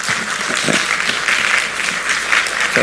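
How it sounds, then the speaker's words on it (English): Applause at a Nigerian diaspora investment summit, a sustained, dense patter of many hands clapping throughout, loud and even with no speech over it. "Please give him another round of applause."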